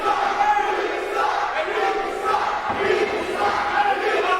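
Wrestling crowd at an NWF Blanchester Blitz show in Ohio jeering wrestler Mark Manson, a steady, dense roar of voices that carries on without a break from start to finish.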